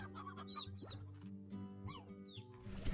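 Stony hens in the Slime Rancher video game cluck in short repeated bursts over a steady low game-music drone, with a few brighter chirps and a swelling call near the end.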